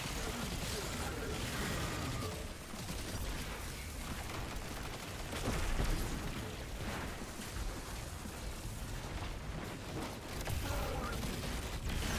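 Grenade launcher blasts from the Regnant in Destiny 2 Lightfall, a loud, dense barrage of explosions and gunfire running continuously with heavy low-end thumps and a few bigger booms standing out.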